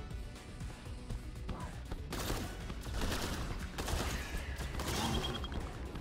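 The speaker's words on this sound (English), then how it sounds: "This has turned my railgun into a machine gun." Railgun in the video game STRAFE firing rapidly like a machine gun, a dense quiet clatter of repeated shots and crashes against a background game rumble, no talking.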